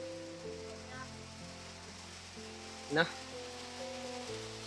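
Rain falls in a steady, even hiss outdoors, and a low droning hum and brief speech sit over the wash of rain.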